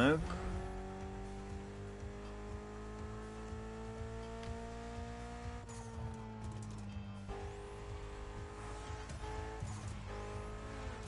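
A Mitsubishi car with an inline four-cylinder engine in The Crew Motorfest racing game, droning steadily as it rises and drops through gear shifts, with brief tire noise and a voice talking over it.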